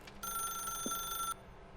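A telephone rings in the video game The Stanley Parable: one bright, electronic bell burst lasting about a second, clear and steady over a quiet room tone, then it cuts off.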